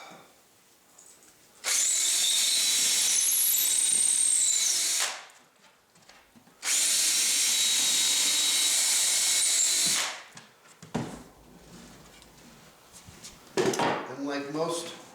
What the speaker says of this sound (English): we can hang this template right on that center line, like that, and then go ahead and drill the holes